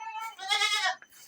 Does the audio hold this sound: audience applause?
no